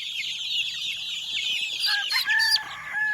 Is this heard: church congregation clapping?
no